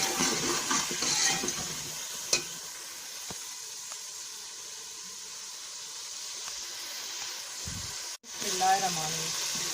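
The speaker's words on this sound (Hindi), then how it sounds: "फिर इसमें थोड़ा सा पानी डाल देंगे।" Water hits hot masala frying in a pan for aloo salan, producing a loud steady sizzling hiss that fades and then swells again near the end.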